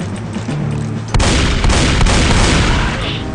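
Bomb explosion in Left 4 Dead 2, a sudden loud blast with a dense rumbling roar that lingers, preceded by quieter game noise.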